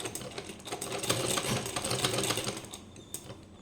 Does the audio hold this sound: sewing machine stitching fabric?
yes